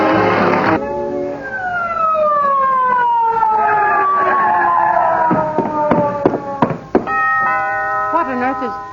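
An ambulance siren sound effect in an old-time radio comedy, a long descending wail heard close and loud, followed by a few sharp knocks and another brief warbling tone, with voices around it.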